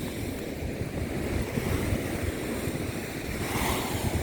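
Sea waves crash and surge over a harbour defence wall on the Paignton seafront in Devon, a loud, continuous roar of surf mixed with wind buffeting the microphone, with no talking.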